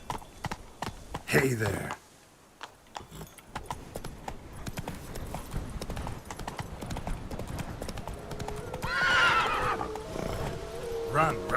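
Roach the horse trots with steady clip-clop hoofbeats and lets out a whinny in The Witcher 3, with a voice speaking briefly over the hooves.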